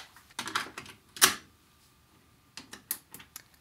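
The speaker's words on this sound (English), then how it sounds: "let's pop a tape in and just check the mix first of all" A tape is pushed into a HiFi VHS deck, making a few close plastic clicks and clatters, a sharp mechanical clunk, a quiet pause, then further small clicks as the mechanism engages.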